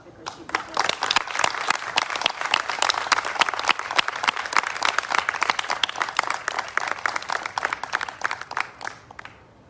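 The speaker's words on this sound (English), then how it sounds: "please give her a big applause because she deserves it" An audience applauds at a Spanish civil merit medal ceremony, many hands clapping in a dense, steady burst that holds for about ten seconds before thinning at the end.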